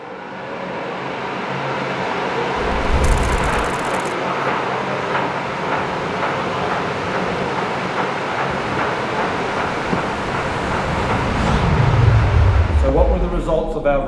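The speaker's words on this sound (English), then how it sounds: "let the wind tunnel tell the truth." Airflow inside a wind tunnel used to test bicycle wheel rotors makes a continuous loud broadband rush, with a brief low thump early on and a swelling rumble near the end.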